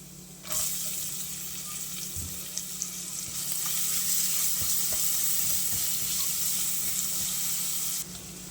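Onion dropped into hot oil with a pinch of asafoetida and bay leaf, a steady close hiss of frying that swells as it is added and runs on evenly with a few faint clinks of a utensil.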